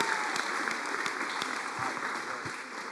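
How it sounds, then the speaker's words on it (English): Applause from the audience at an Israel Adesanya Q&A at Bangtao, a steady wash of clapping at moderate volume with a few sharper claps standing out, continuing evenly throughout. "Round of applause for the new UFC athlete there."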